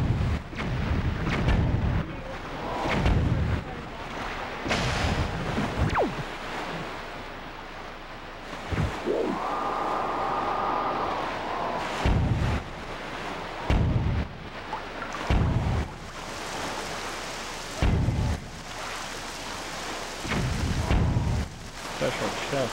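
Bomb blasts in the GameCube game The Legend of Zelda: The Wind Waker, a string of sharp booming bursts spread out over a continuous wash of ocean surf and wind.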